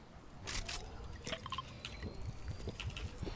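Mini shield potions being drunk in Fortnite, heard as a quick series of liquid gulping and dripping sounds in a rapid, regular rhythm over game ambience.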